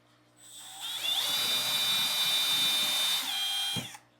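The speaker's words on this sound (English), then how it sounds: "for now, the hand drill is just going to have to do it" Handheld drill boring into wood for a wooden peg game board, a single high whine that spins up, holds steady for about three seconds and winds down, close and alone.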